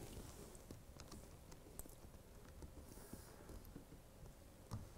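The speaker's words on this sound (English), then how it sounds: "I'll type my name in there" Faint, quick tapping on a computer keyboard, a soft stream of light keystrokes over low background hiss, with no one speaking.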